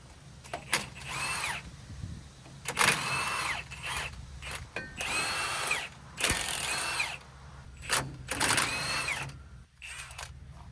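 Impact wrench rattles in several loud bursts, unbolting a monster truck's front drive shaft through an impact-rated chrome extension, with short pauses between hammering runs and clanks of tools in between.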